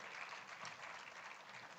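An audience at a conference breaks into applause for an introduced guest. The clapping is a soft, steady, distant wash with no distinct claps standing out.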